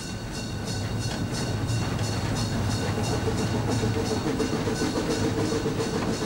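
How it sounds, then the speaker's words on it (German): Historic train of freight wagons and an old passenger car hauled by Molli steam locomotive 99/323 on the Bäderbahn, giving a steady, close rolling rumble with continuous wheel clatter throughout. "'99/323 hat die Ehre, den Zug zu ziehen"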